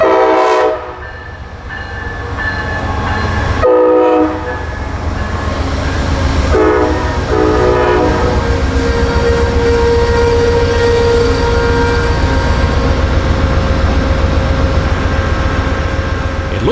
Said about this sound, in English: Amtrak 98 appears from the south, easing into Palatka with a Siemens ALC 42 Charger in the lead.